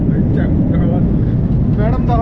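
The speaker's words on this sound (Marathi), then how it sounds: "मित्रांनो तर फायनली विमान पळायला लागले." A passenger airplane accelerating down the runway for takeoff, heard from inside the cabin as a loud, steady roar that persists under someone talking throughout.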